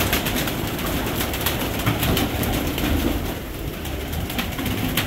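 Pigeons coo steadily, a pair of prized champion birds kept by a fancier. The soft cooing sits in a dense wash of constant background noise that lasts the whole time.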